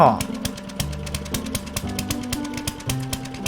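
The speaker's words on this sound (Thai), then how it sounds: "ไอ้เจ้าตัวนี้ก็จะใช้น้ำมันนะครับ ในการ ขุดเจาะ" Fuel-powered auger drilling in the zombie survival game 7 Days to Die: a rapid, evenly repeating mechanical hammering over a droning engine hum, loud and close, with a heavier burst at the start.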